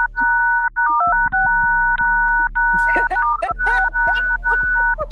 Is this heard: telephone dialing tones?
yes